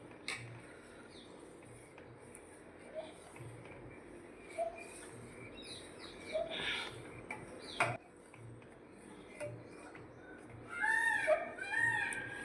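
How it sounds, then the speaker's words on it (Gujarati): A quiet outdoor scene with scattered faint clicks, then distant peacock calls ringing out near the end. "જુઓ મોર બોલે છે ને"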